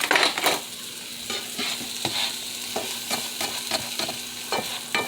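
A spatula stirs scrambled eggs in a hot pan with repeated scraping strokes over a soft, steady sizzle, close up, with no voices.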